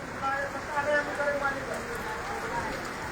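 Heavy rain falling in Tando Qaiser, Hyderabad, Sindh, Pakistan, a steady hiss of rain on surfaces with faint background voices and some higher tonal sounds mixed in.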